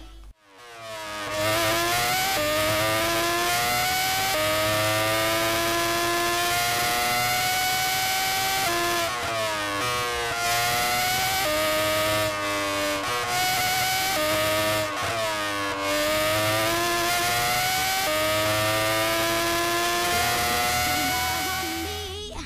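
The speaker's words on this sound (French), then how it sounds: "Et je vous laisse écouter le son du moteur." The Red Bull X2011, a futuristic jet-styled race car in a video game, drones with a loud, steady, high-pitched engine whine that rises and falls in sweeping pitch changes as it accelerates and shifts, running continuously without talk.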